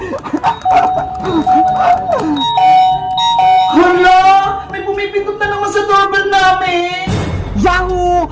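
Loud electronic doorbell chimes ring repeatedly in quick succession, melodic tones overlapping one another, with a brief thump near the end.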